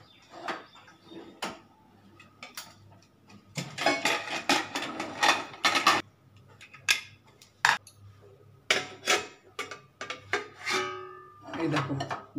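A lid comes off a cooking pot of steamed prawns with raw mango, making a close run of clinks, scrapes and light metallic knocks in uneven bursts over quiet room tone.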